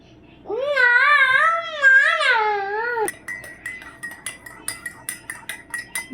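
Sugar being stirred into tea with a spoon: a young child's high, wavering vocalizing comes first, then a steady run of light, quick metal clinks against the cup, close by.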